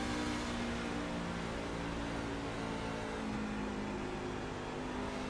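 Onboard engine of Bobby Blair's race truck at Texas, a continuous loud droning roar held steady under throttle with slight shifts in pitch, no voices.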